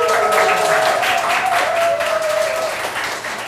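An audience at a Korean author's book talk applauds to welcome the writer, a steady wash of clapping that tapers off slightly toward the end.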